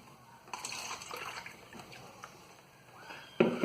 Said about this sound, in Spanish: Y ahora vamos a vertir un poco de agua.